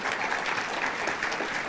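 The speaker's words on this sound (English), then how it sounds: "I'd like to give them all a round of applause." Brief, steady applause from the audience at an Illinois Legislative Latino Caucus town hall meeting, a dense wash of many hands clapping at an even level for colleagues seated at the table.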